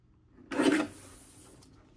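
A strip of paper being trimmed for a beach-themed scrapbook page gives a single short, dry rasping cut that fades into a faint, lingering scrape.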